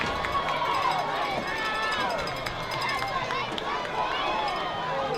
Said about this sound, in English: This Boynton Beach crowd has come to life.